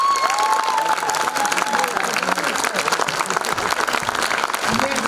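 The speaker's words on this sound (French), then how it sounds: "Je pense que ça vaut une main d'applaudissements." Audience applause at a secondary-school stage show, a dense, steady wash of clapping with some crowd noise and faint cheering, loud and sustained throughout.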